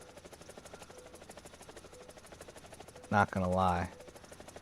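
An attack helicopter hovering in the War Thunder video game, with a steady rhythmic rotor thump throughout and a brief spoken remark near the end.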